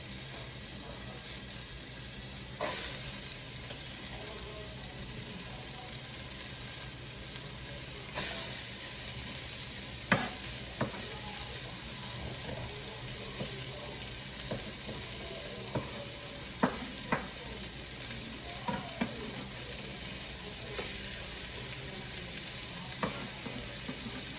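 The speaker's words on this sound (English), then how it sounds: "So let me get these in." Sausages fry in a pan with no added oil, giving a steady, quiet sizzle throughout with scattered clicks and scrapes of stirring or turning.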